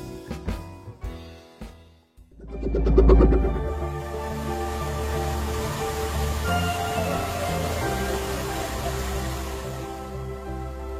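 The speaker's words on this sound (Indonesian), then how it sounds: "Menikmati pemandangan air terjun tapi di kota." A steady rush of falling water from a waterfall feature in a city cafe restaurant in Bogor fills the space continuously, following a few sharp knocks at the start.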